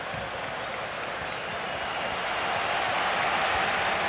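Stadium crowd applause from a FIFA 23 video game match in Italy's Serie B, Ascoli against Frosinone: a dense, steady roar of clapping and cheering that holds at an even level throughout, with no talking over it.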